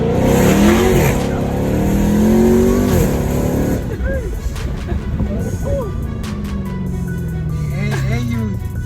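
A 2020 Dodge Charger Hellcat Widebody accelerates hard, its loud engine roaring and rising in pitch through several revving surges up close, while people talk over it.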